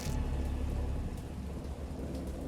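Rain falling steadily during a storm, a continuous dense hiss with a low rumbling undertone, heard alone without voices.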